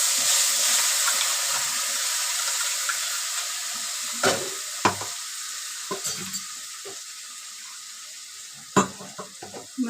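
Asafoetida and spices hit hot oil and hiss at once. The sizzle fades gradually and gives way to scattered clinks and scrapes of stirring in the pan.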